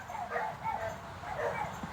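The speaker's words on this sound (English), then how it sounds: "I'm gonna go get my dogs before they have a heart attack because apparently they're freaking out" Dogs whimper and yip in short, faint bursts, somewhat distant and muffled, with a low background murmur.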